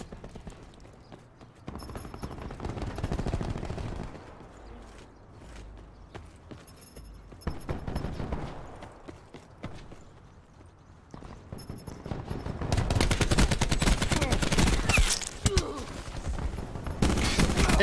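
Gunfire in a shooter game's gun game mode crackles in rapid bursts of shots, some sparse and some dense, with heavier sustained firing near the end under occasional talk.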